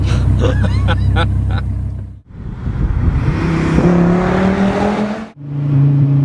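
A supercharged Dodge Viper GTS accelerates hard, its loud engine note climbing steadily from inside the car, with two brief dips where gears change before the roar picks up again.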